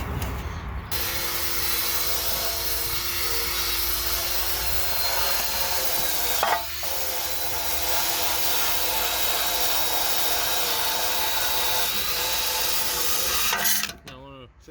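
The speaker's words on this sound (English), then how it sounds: "Now I want to say this is a plastic bristle brush. This isn't damaging anything. Just knocking off all the loose stuff." A plastic bristle brush scrubs by hand across a 2002 GMC Sierra 1500's 4L60E transmission pan, making a steady loud rasping and rubbing noise for most of the stretch, with a brief pause near the middle.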